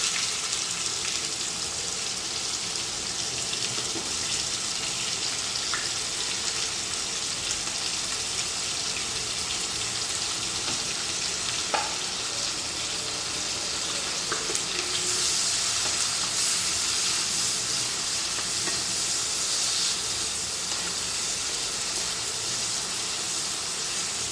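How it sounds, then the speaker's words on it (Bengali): Onions hiss and sizzle steadily in hot oil for a Bengali mutton curry, a broad even frying noise held for over twenty seconds with a few faint clinks and no talking. "এবার আমি পেঁয়াজটা দিয়ে দেবো।"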